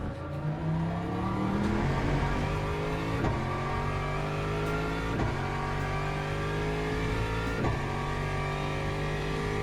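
Race car engines in the Le Mans Ultimate sim racing game drone steadily at high revs, with repeated gear shifts and cars passing in a wet race, continuous and fairly loud with no talking.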